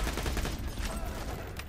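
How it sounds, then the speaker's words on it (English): Rapid gunfire from the video game Borderlands 2, a dense run of overlapping shots filling the moment with steady, loud bursts and no talk over it. "I'm getting shot at, Trent."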